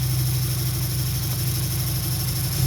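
A rough-running 2003 Dodge Neon 2.0 engine with a misfire idles steadily nearby, a continuous low rumble with a faint uneven pulse and no talking.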